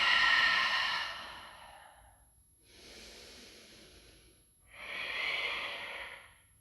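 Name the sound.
exhaling breath during yoga forward fold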